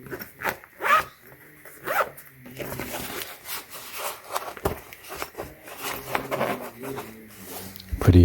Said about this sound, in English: there's a zipper on the back here as well.